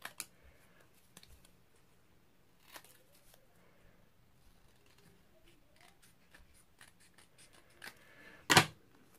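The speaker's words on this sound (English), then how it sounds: "I'm just going to cut around this, just so I've got a little bit of black showing" Scissors snip card around a die-cut horse and carriage shape in small, quiet clicks and cuts, ending in one louder, closer snip.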